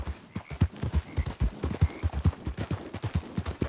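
Horse hooves in a video game, a steady galloping clip-clop of sharp repeated thuds at close range, rhythmic and continuous with no talk over it.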